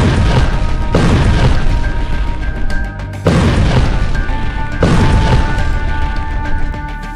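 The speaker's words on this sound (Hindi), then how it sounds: "हमास ने फोड़ दिए टैंक।" Loud, heavy booms from tank explosions in Gaza war footage, three big blasts roughly a second and a half apart, each a sharp broadband impact trailing into rumbling debris and noise, with no talk.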